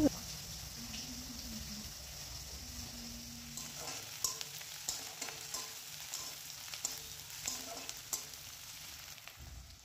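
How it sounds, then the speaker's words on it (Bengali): Whole spices tempering in hot oil for a mutton curry crackle and sizzle steadily, with scattered sharp pops and stirring clinks growing busier toward the end, while faint background sounds run underneath. "এরপরে যে যা যা ফোড়ন দিতে হয় নর্মালি মাংসের ঝোলের মধ্যে সব দিয়ে দিচ্ছি এক এক করে।"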